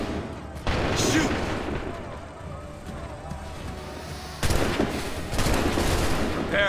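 Musket volleys ring out in an Assassin's Creed 3 battle, loud broadband bursts of gunfire cracking together near the start and again toward the end, with a sustained roar of battle noise between them.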